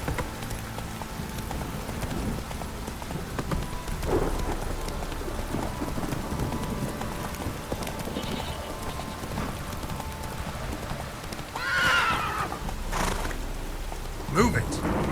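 Heavy rain pours down steadily in The Witcher 3 game, a constant wash of drizzle and patter with horse hooves clip-clopping and a few brief louder crackles, moderately faint.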